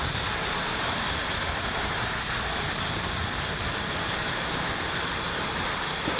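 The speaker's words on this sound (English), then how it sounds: "Falcon 9 has successfully lifted off from Space Launch Complex 40" A SpaceX Falcon 9 rocket climbs after liftoff from Space Launch Complex 40, its engines making a steady, broad, distant roar that holds evenly throughout without breaks.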